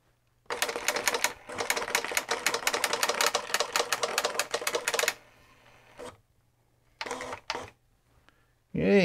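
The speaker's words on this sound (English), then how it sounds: "Yay, it prints" A vintage printer hooked up over an RS-232 serial link prints the output of a BASIC program in rapid, rattling dot-matrix bursts, with a long steady run followed by a few shorter clattering passes and pauses.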